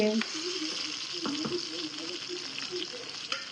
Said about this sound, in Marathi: वांगे छान परतले हे शिजले